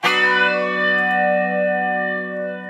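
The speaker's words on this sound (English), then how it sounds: "I'm using a little bit of reverb, which is maybe not the case in the original." Clean electric guitar through a NUX MG-30 with a touch of reverb, one chord struck at the start and left ringing with a steady, slowly fading sustain and a soft reverb tail, played alone.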